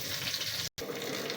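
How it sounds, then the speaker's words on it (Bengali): Eggplant slices sizzle in hot oil with a steady, close crackling hiss, broken by a brief silent gap partway through. "হচ্ছে বেগুন ভাজা"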